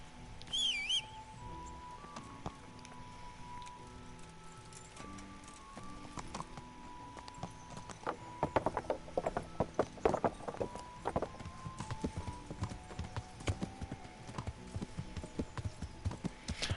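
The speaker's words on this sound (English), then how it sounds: "this horse is like stampeding on my eardrums" Horse hooves clop and gallop in the video game Kingdom Come: Deliverance, faint at first and then a loud, rapid rhythmic pounding over the second half, with a brief whinny near the start.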